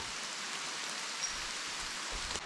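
Rain falls outdoors in a steady, even hiss that fills the whole stretch, close and continuous, with faint low thuds of drops landing near the end and no voices.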